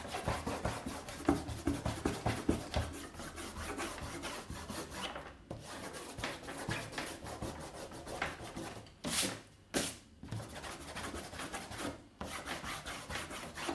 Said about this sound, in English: we are going to take our rubber and rub out the lattice to pretend it was never there.